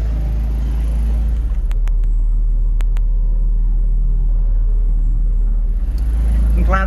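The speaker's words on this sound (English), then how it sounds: "At fairly low RPM with that 5 horse, an 8 would have been too much." A 5 horsepower outboard motor pushes a small Com-Pac 23 sailboat at fairly low RPM, giving a steady, loud low rumble close by with faint water noise and a few brief ticks.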